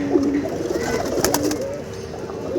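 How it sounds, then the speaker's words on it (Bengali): Pigeons coo in a pigeon loft, several soft, rolling calls close by, overlapping one another against a steady background murmur. "এই যে কবুতরটা কাজ করা প্যাটার্নের এটা বাচ্চাকালে সাকিবের কাছ থেকে নিয়ে আসছিলাম"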